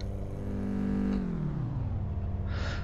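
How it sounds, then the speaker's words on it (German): A Suzuki Liana engine in the driving game City Car Driving revs with a rough, raspy exhaust note, then the pitch slides down as it eases off. No voices. "der klingt schon sehr nach abgegammeltem Auspuff"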